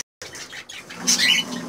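Cockatiels in a breeding setup give short chirps and calls, close and fairly loud, in a quick burst with no talking.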